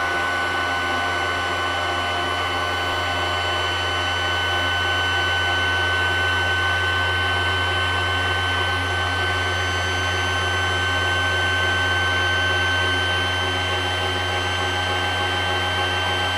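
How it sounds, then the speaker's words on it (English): Gyroscopes spinning inside a Type 69 tank produce a steady, loud mechanical whine and hum that holds unchanged and continuous throughout, with no voices. "Ik heb nu gewoon de gyroscopen die aan het spinnen zijn."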